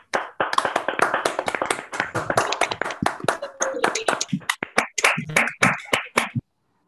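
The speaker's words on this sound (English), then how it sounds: "I request everybody to unmute and applaud Professor Chengalur for his talk." Audience members on a video call unmute to applaud after an academic talk on radio astronomy, giving scattered, uneven clapping from several people over talk and background chatter, ending abruptly.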